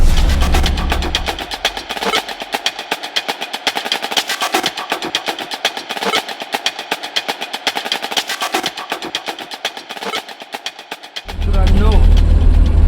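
A truck engine drives along a road near Mangaon on the way to Pune, a loud close rumble with a steady pulsing rhythm throughout and heavier low thumping at the start and end.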